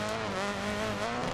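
A rally car in DiRT Rally 2.0 revs hard with a buzzing, high-pitched engine note, tyres scrabbling and squealing beneath it, loud and close for a short burst.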